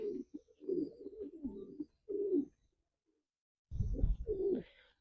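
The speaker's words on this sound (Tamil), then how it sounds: "இங்கே பாருங்க இந்த புறா வந்துச்சு" Low, soft pigeon coos in repeated rounds with short pauses between, fairly close, in a park, with no voices.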